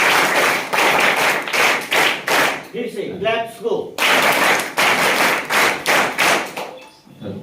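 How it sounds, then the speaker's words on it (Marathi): An audience at a school ceremony honouring a donor breaks into loud, steady clapping in rhythmic surges, with a short lull where a voice comes through midway. "म्हणून आणखी एकदा टाळ्यांचा गडगडाट होते"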